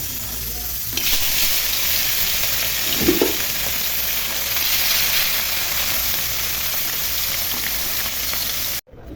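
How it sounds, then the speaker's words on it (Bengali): Turmeric- and salt-coated shing fish go into hot oil and set off a loud, steady sizzle. Brief stirring sounds come partway through, and no voices are heard. "তেল গরম হয়ে গেছে, এখন মাছগুলো ভেজে নিব।"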